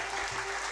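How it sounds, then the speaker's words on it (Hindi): An audience applauds at an award ceremony honouring workers, a brief, continuous burst of many hands clapping with a low hum underneath. "तालियों में कंजूसी न रखें"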